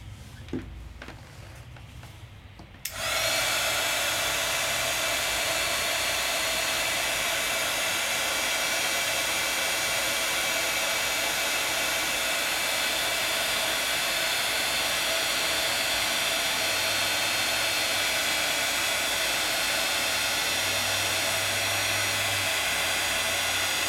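A heat tool melts silver polished embossing powder over a layering stencil, switching on after a few quiet seconds into a loud, steady whirring blast of air that runs unbroken to the end.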